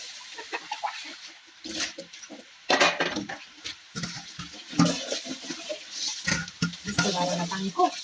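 Spices washed in a metal pot outdoors, with intermittent clattering of dishes and splashing water, irregular knocks and scrapes throughout, and a rooster and chickens audible in the background.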